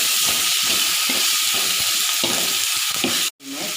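Tomatoes are dropped into a hot frying pan for pepper fried rice and sizzle loudly and steadily up close. The sizzling breaks off briefly near the end, then resumes.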